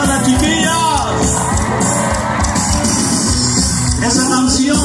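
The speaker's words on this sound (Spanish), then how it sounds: "A ver, ese grito de todas las chiquillas" A concert crowd of women and girls at a live show in Tampico, Tamaulipas, shouting and screaming together in a loud, sustained wall of cheering, with high-pitched yells rising over the dense roar of the audience.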